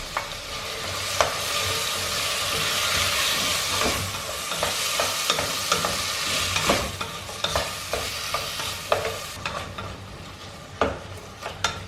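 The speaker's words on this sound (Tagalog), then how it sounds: "Let's put our carrots." Chopped carrots sizzle steadily in a hot pan for pasta e fagioli, with repeated scraping stirs and clinks of a utensil growing more frequent toward the end.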